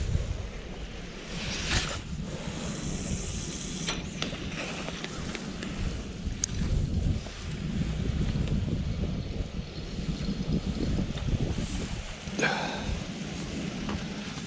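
Strong wind gusting over a river during autumn feeder fishing near Aksai, a steady blustery rush buffeting the microphone with rising and falling gusts, water lapping faintly underneath.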